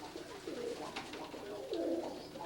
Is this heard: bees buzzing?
no